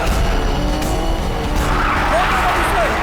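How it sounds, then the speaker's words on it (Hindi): Cars race through a movie car chase in the dubbed South Indian film Paiyaa. Loud engines roar and tires squeal in a dense, continuous rush, with voices heard over the noise. "वो तेज चला रहा है, तुम भी तेज चलाओ, और तेज चलाओ"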